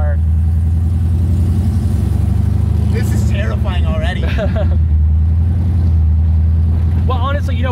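A Hellcat-engined Mazda Miata with no power steering drones loudly and steadily from close by, its low engine note running under nearly continuous talk from the occupants.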